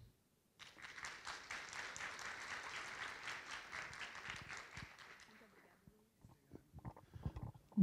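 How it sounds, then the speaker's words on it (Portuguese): Audience applause welcoming Luiz Loureiro, founder of Shaped, to the stage at the Fórum Deep Tech Rio 2025: steady, dense clapping for about five seconds, then fading into a few scattered claps and handling noises. "recebam com uma salva de palmas Luiz Loureiro"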